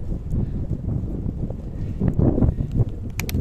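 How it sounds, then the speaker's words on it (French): Headwind buffets the microphone of a cyclist on a mountain bike between Bonifacio and Propriano, Corsica, in a continuous low roar, fluttering and gusting steadily throughout with no voices. "Vent facial, pas très fort mais un peu chiant."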